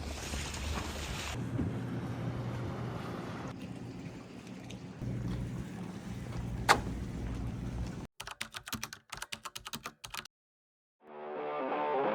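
Steady wind and engine rumble of a boat moving across open sea in the Bahamas, with a burst of clattering and a sharp cut before the noise resumes.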